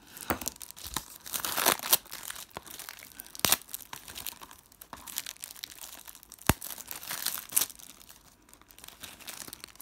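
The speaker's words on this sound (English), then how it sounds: "Getting in to try and open these things." Crinkling, tearing plastic shrink-wrap as a FIFA 21 Xbox Series X game case is pried open, with irregular sharp rips and crackles close up, no speech.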